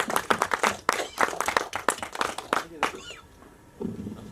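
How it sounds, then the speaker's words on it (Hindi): An audience at a Bollywood film press conference claps in a brief, choppy burst with distinct claps for about three seconds, then it dies away. A quiet voice follows. "एक बार जोरदार तालियां प्लीज"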